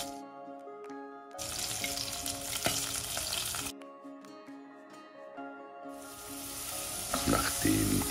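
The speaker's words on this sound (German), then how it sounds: "Das Wurzelgemüse in den heißen Topf geben, gut umrühren und etwas" Root vegetables dropped into a hot pot and stirred, giving loud bursts of sizzling and frying. The bursts alternate with quieter stretches where a steady tonal hum carries on underneath.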